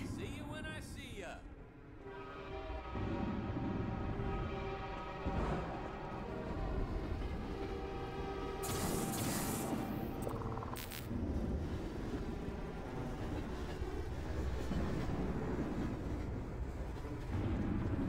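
In the Half-Life 2 Episode 1 video game, a train rumbles past in a steady, heavy roar that goes on for the whole stretch, with metallic clanks and grinding and a few sharp bursts partway through.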